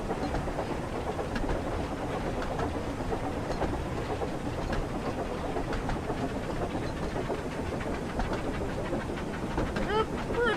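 Diesel engine train from the video game Thomas & Friends: Wonders of Sodor runs with a steady rumbling, clattering drone and faint rhythmic clicks, moderately quiet and continuous throughout.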